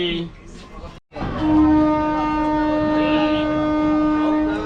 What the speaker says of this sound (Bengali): ট্রেন এসে পৌঁছালো নলপুর স্টেশন